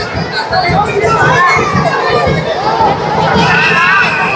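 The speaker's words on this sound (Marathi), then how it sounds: "आता गर्दी वाढली आहे वारातीमध्ये भरपूर" A large, noisy crowd at a village wedding procession during a Shimga festival: dense chatter, children shouting and cheering, loud and continuous throughout.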